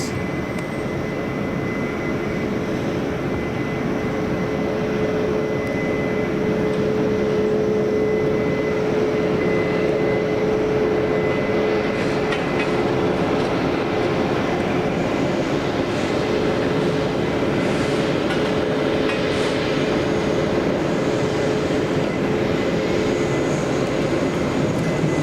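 A SunExpress airliner passes at Manchester Airport, its engines a loud, steady roar with a whining tone that fills the whole stretch without pause.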